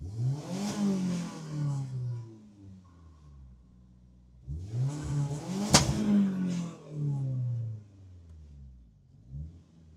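A Volvo drift car's engine revs at a drift event in two long surging bursts with rising and falling pitch, the second one punctuated by a sharp crack, then fades into a shorter rev at the end.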